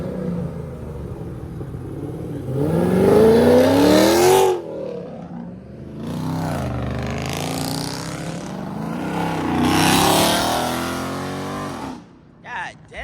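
Jeep engine at a car meet revving hard and loud nearby: several long roaring bursts that rise and fall in pitch, swelling, dropping back and building again over a rumbling idle.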